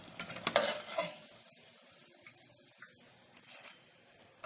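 Falafel (ta'ameya) patties fry in hot oil in a home kitchen, giving a soft steady sizzle with a few louder clinks and stirring sounds near the start, then quieter bubbling.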